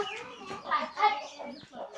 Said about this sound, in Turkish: tavuk tavuk ve civcivlerimiz var arkadaşlar